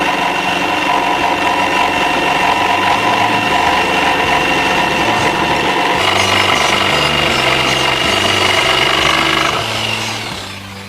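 Power saw cutting through a wooden board for building a wheelbarrow, a loud continuous motorized whine and buzz with shifting pitch as the blade bites, fading out at the end.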